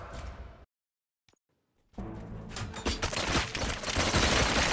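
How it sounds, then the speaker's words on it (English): Gunfire from the video game RoboCop: Rogue City: a loud burst of rapid shots and volleys erupts after a brief silence, dense and sustained like a firefight. "Gunshots? What's going on?"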